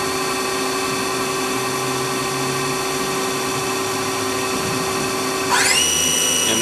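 A Citizen L16 CNC Swiss lathe sub spindle spins at 5,000 RPM with a steady, loud whine and mechanical hum, and a rising chirp of higher tones sweeps in near the end.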